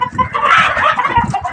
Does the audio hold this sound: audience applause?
no